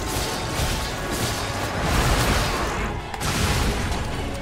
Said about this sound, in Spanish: Esa mega explosión ha dado área a todo lo que el bicho tenía delante.